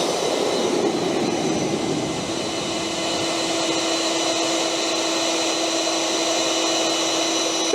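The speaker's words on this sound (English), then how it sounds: "It's backpack blower time, baby." An EGO battery backpack leaf blower runs outdoors, its loud steady whooshing roar holding without a break, with a faint whining tone laid on top.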